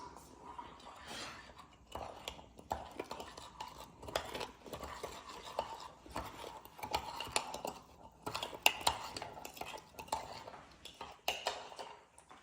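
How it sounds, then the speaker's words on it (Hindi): Milk being stirred into chocolate mug cake batter in a mug, a spoon scraping and clinking in quick irregular strokes, soft and close, with no talking. "इसमें डाल लेता हूँ दूध। इसको कर लेता हूँ अच्छे से मिक्स।"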